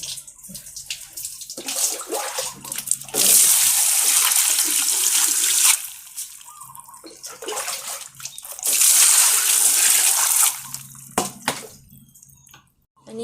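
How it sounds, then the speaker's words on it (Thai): Water poured out of a container and emptied away outdoors, two sustained loud gushing pours separated by quieter dripping and splashing, with no talk. "เทน้ำทิ้งค่ะ"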